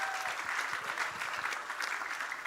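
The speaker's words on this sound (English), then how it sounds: "Can we give them a round of applause as they leave?" Audience applause at a national grand final competition as the teams leave the stage, a steady dense wash of clapping held for the whole stretch with no voices over it.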